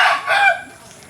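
A rooster crows once, loud and close, a short rising call that fades within a second, outdoors at a simple house in the Philippines.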